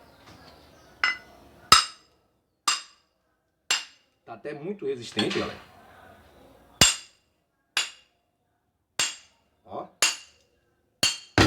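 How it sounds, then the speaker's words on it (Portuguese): Small hammer tapping a stainless steel weld bead laid on cast iron, giving about ten sharp, bright metallic clinks in an uneven rhythm, close and clear, with a brief stretch of talking partway through. "Vou pegar um martelinho aqui, só dar umas pancadinhas pra ver."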